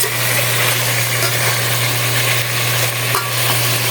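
Carrots and other vegetables sizzle loudly and steadily in a frying pan while being stirred, a dense, continuous crackle heard up close with a low hum underneath.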